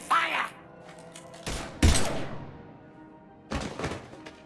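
Gunfire in the Mass Effect 3 video game, a few sharp heavy shots spaced irregularly over a few seconds, with short pauses between them.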